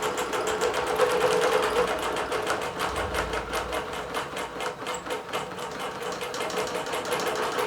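A Bernina Q24 quilting machine stitches a computer-digitized design with a continuous fast, rhythmic needle chatter and motor hum, close and steady throughout, with no voices.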